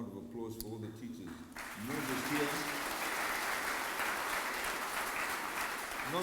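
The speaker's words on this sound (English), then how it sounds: "I think it deserves a round of applause for all the teachers" At a high school event in Fiji, an audience breaks into loud, sustained applause for teachers after a voice speaks, and the clapping continues steadily to the end.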